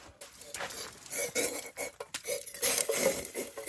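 A cooking pot is rinsed with boiling snow water outdoors at a winter shelter, bringing close sloshing and pattering water with light metallic clanks and scrapes of the pot, uneven and busy throughout.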